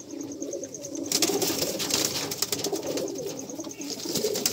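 Female pigeons coo in a home loft, soft low rolling calls repeating steadily over a constant background hum, with no voices.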